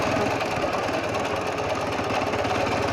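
A Ural motorcycle's four-stroke engine running close up, a loud continuous rough mechanical clatter with a fast steady pulse and no pauses.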